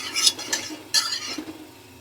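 A spoon stirs baking soda and ajwain seeds into oil in a pot, giving a few light metallic scrapes and clinks in quick uneven strokes, close by and with no talk.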